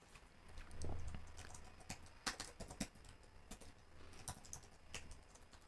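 Quiet, scattered clicks of a computer keyboard, a few short bursts of typing keystrokes at a low level with no talking.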